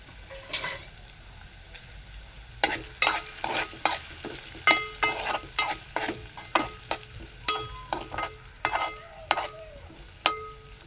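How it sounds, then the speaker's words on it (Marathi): Ridge gourd slices are stirred and sautéed in a pan, with repeated sharp scrapes of a spoon against the pan over a low sizzle, close and fairly loud in an irregular rhythm. "आपण परतून घेऊ आता."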